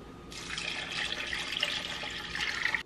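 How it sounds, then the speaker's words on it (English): Water pours steadily into a soup pot, a continuous splashing rush that starts abruptly and keeps going at a moderate, close level. "I'm going to add in 8 cups of water."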